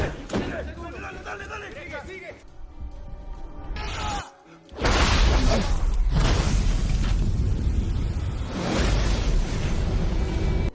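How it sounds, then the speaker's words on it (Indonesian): A warehouse explosion in a film: a loud, booming blast bursts out after a brief lull, followed by a roaring, crackling aftermath with voices mixed in. "Seketika gudang tersebut meledak yang membuat semua prajurit tewas"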